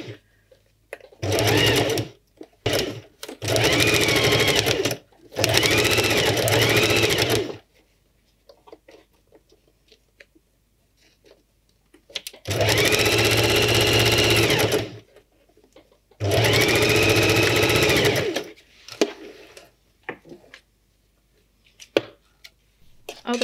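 A sewing machine stitching fursuit tail pieces runs in four loud, close bursts of steady whirring, each several seconds long, with quiet gaps of small clicks and fabric handling between them.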